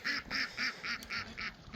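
Ducks at a farm pond quack in a steady, rhythmic series of about seven loud, close calls, evenly spaced with no talking.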